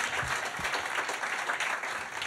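A studio audience claps together in a steady wash of applause during an interview. It is moderately loud and continuous and lasts a couple of seconds.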